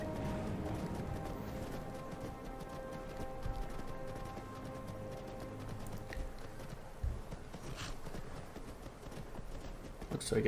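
Horse hooves clip-clop steadily in a heavily modded Skyrim game during the Hob's Fall Cave quest, a continuous rhythmic patter mixed into a dense bed of game ambience and music, with occasional louder thuds.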